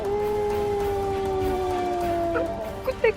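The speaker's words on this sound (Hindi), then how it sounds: "कुत्ते की रोने की आवाज भी आती है भैया" A dog howls in one long, sustained, mournful wail that holds steady before trailing off, followed by a few faint scattered sounds.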